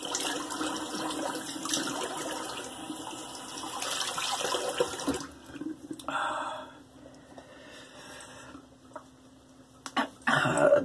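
Cold water is splashed onto the face to rinse off shave soap: a steady rush of running tap water, then wet splashes and dripping close by, with a brief cough near the end.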